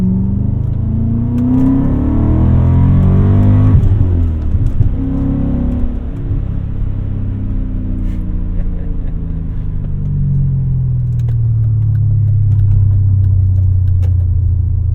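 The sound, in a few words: 2001 BMW E39 M5 car engine driving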